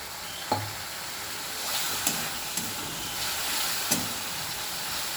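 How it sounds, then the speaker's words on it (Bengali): Spice masala fries in a pan with a splash of water, producing a soft, steady hiss and sizzle, with a few sharp spoon knocks against the pan scattered across the stretch. "মশলাটাকে খুব ভালো করে কষিয়ে নিচ্ছি।"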